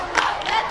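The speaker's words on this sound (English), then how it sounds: "Ladies College have begun a chant to cheer their team on as well" Supporters of Ladies College chant and shout together at a rowing regatta, a brief burst of massed crowd voices cheering on their crew.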